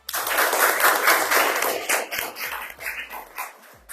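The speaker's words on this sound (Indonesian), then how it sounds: "Beri aplaus kepada kelompok 2" A classroom of students applauds group 2, and the clapping stays dense and close for a few seconds before it thins out.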